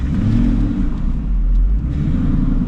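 A Ford Mustang Cobra R engine rumbles and revs with a deep, steady, loud drone heard close from the cabin.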